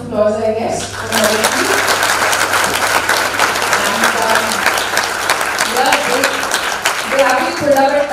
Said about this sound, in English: They deserve a round of applause, I guess.